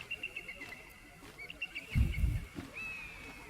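High, thin bird cries from an eagle in the video game Baldur's Gate 3 call out several times at a moderate distance. A short low rumble sounds in the middle.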